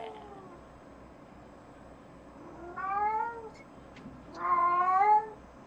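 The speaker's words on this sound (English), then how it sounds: "She's like, meow." A cat meows twice nearby, each call a drawn-out, rising whine with a questioning lilt, separated by a short pause.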